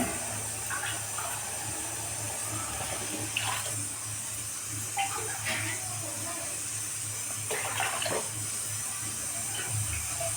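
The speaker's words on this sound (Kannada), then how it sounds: "ಸ್ವಲ್ಪ ನೀರು ಹಾಕೋಣ ಎಷ್ಟು ಬೇಕಷ್ಟು" Water pours steadily into a pot, a soft continuous splashing hiss with small bubbling bursts, fairly faint and uninterrupted.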